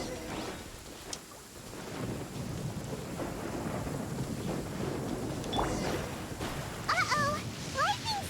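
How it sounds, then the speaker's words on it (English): A lightning storm in the video game Genshin Impact brings low rumbling thunder over steady rain, with a few brief bright game chimes near the end. "Uh-oh! Lightning storm!"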